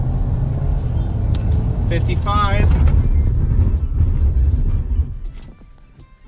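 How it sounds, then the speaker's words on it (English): A 2018 Audi A4 sedan brakes hard from 55 mph on a wet road. Loud, steady road and engine roar runs under a voice, then drops away sharply as the car comes to a stop. "and then I'm going to slam on the brakes"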